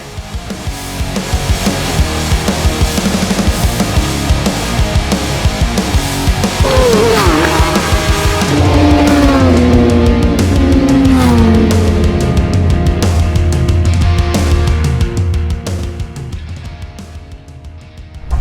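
Yamaha R6 sport bikes race past at Chang International Circuit, engines screaming loud and continuous with rising and falling pitch sweeps as they pass close, fading toward the end.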